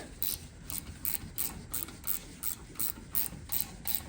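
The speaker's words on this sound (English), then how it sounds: "I'm just using a 10mm ratchet spanner." A 10mm ratchet spanner clicks in quick repeated bursts while undoing bolts on a BMW E36 M50 engine, a close, dry rhythmic ratcheting heard alone.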